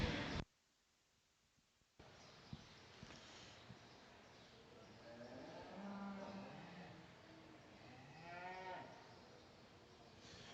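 Cattle in a steer show ring at a beef expo low in a couple of drawn-out calls partway through, moderately loud over a busy arena murmur after a brief quiet gap.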